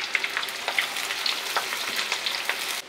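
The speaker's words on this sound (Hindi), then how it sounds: "प्याज को हम गोल्डन ब्राउन हो जाने तक फ्राई कर लेंगे।" Steady sizzling and crackling of sliced onions frying in hot oil, close and continuous, with small pops scattered through.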